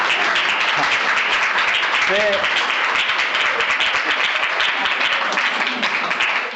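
An audience in a church in Jeypore, Odisha, applauds to welcome a guest, with dense, sustained clapping throughout and a few faint voices underneath.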